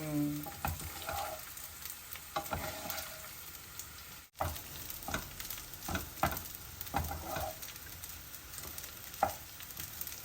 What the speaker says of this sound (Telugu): నాకు జీరా రైస్ బాగా రోస్ట్ అయితే ఇష్టం